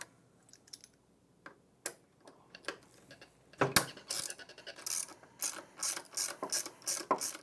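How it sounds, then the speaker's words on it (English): A ratchet wrench clicks as bolts come off a buffer brush assembly on an IKON floor machine, beginning with sparse quiet ticks, then moving to rapid, louder bursts of ratcheting close by. "Remove the bolt. And lastly, the forward bolt."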